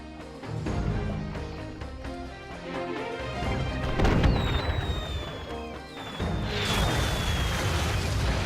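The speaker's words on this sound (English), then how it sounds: "We've been spotted by their artillery!" Enemy artillery fire in the Skylanders Spyro's Adventure video game at Dark Water Cove: repeated booming blasts and crashing impacts, with whistling shells streaking overhead, loud and close over a busy musical backdrop.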